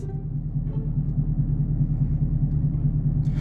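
A car engine idles in a steady, loud low rumble with an even pulsing throb, continuous throughout and with no talk over it.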